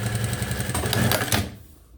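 A sewing machine stitches a mini backpack in a quick rattling run, close and steady, then stops and fades into quiet.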